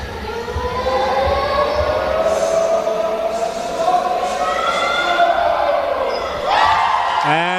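Crowd at a women's basketball league final cheering loudly and steadily throughout, with whistling tones and swelling shouts, peaking near the end.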